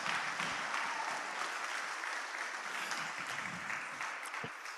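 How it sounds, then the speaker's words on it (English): Sustained applause fills a packed conference hall at a COP26 union forum on climate change, a dense, even wash of many hands clapping at steady volume throughout, with no voices over it. "you also got a very rousing round of applause from a house as packed as they would let us pack it"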